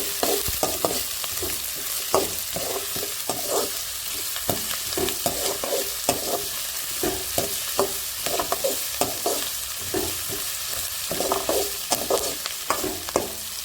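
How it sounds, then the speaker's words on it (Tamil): Onions sautéing with curry leaves and chillies in a pan for ragi semiya upma: steady frying sizzle broken by frequent scraping stir strokes in an uneven rhythm, close and moderately loud, with no talking. "எல்லாம் சேர்ந்து வதங்கலாம். வெங்காயம் நல்லா வதச்சு"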